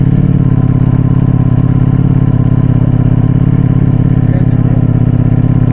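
A BMW S1000RR and a leaky Suzuki GSXR 750 sport motorcycle run close and loud with a steady rhythmic engine drone throughout, with no clear speech over the engine noise.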